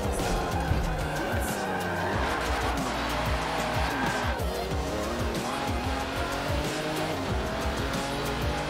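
A race car in Forza Motorsport 7 revs hard and repeatedly squeals its tires through skids, engine pitch rising and falling steadily throughout, with a voice speaking faintly underneath.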